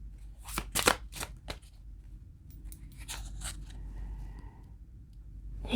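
Tarot cards being shuffled and drawn for a reading, with a burst of quick crisp riffling flicks followed by softer slides and scrapes of cards, close and fairly quiet.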